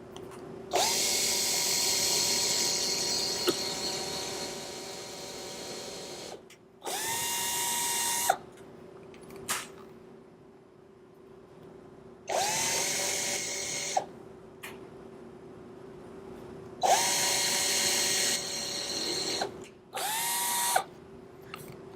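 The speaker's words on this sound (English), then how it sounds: "Now that all of those holes are drilled" A power drill bores holes in wood while building a bumblebee house, several loud close bursts of whining motor that spin up and wind down, separated by short quiet gaps.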